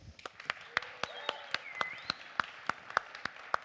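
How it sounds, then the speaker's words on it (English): A small audience at a presentation event gives a round of applause: sparse, distinct claps that come in a steady, fairly even rhythm, close and moderately loud, with a thin whistle-like tone drifting through the background. "Let's give him a big applause"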